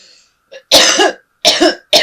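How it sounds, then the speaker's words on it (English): Three sharp, close coughs from a single person, harsh and raspy, coming in quick bursts with brief silences between them after a faint lead-in. "I've had a very bad cough for the last week, and now it's re-emerging"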